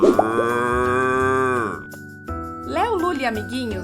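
A cow gives one long, loud, drawn-out moo, and then a person speaks.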